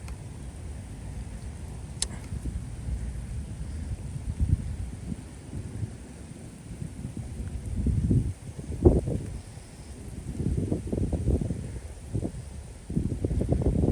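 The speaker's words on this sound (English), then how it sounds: "Getting slight gusts of wind and air that feel a little bit drier." Gusts of wind buffeting a microphone outdoors during storm weather, low rumbling bursts that swell and fade irregularly, growing stronger toward the end, with faint ticking in the background.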